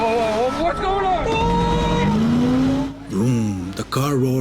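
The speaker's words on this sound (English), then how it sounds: "The car roars down the road," A car engine roars loudly with a rising whine and tire squeal, mixed with voices and busy background noise throughout.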